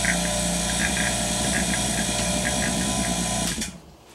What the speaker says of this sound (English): you don't want to listen to that pump running